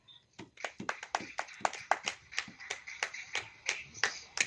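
A church congregation at a Hindi-language sermon claps in a steady rhythmic beat, about twenty crisp, evenly spaced claps, fairly quiet and with no talk over them.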